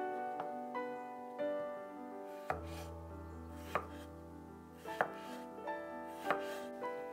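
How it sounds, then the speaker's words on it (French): Knife cutting a quarter of a cucumber into thin slices on a board, quiet sharp taps spaced about a second apart over a faint background hum. "Je coupe un quart de concombre en fines tranches."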